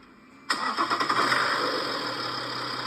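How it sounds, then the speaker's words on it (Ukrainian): A car engine cranks and catches with a sharp onset, sputters briefly, then settles into a steady, fairly loud idle that continues to the end. "Нам видео, як моторчик работает."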